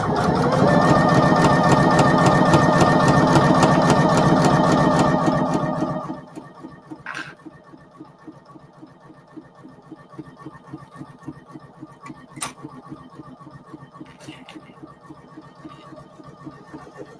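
A Poolin EOC06 single needle embroidery machine stitches at close range, a dense rapid mechanical chatter for about six seconds, then slows to a quieter, softer ticking run of stitches with occasional light clicks.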